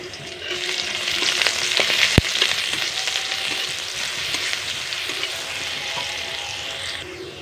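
Garlic and chili fry in oil in a pan, a steady bright sizzle with scraping stirs throughout and one sharp metallic tap near the middle.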